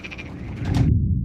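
Frogs croak in a dense, steady chorus beside a lake where gentle waves lap the shore. The croaking is fairly loud and close, and its bright upper layer cuts off abruptly just before the end.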